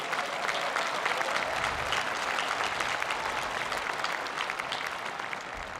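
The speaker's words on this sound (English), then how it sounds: "Please join me in a round of applause for them" Audience applause at the University of Virginia Class of 2021 graduation ceremony: dense, sustained clapping from a large crowd that holds steady throughout and tapers slightly at the end.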